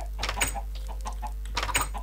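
Chickens clucking in Minecraft, two short bursts of clucks about a second apart, close and moderately loud over a steady low hum.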